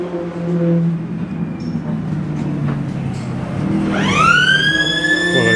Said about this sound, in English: The siren going off tells us there's a car entering the pit lane.